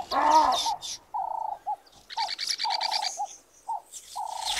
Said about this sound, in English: The air is filled with the music composed of the calls and chirping sounds of birds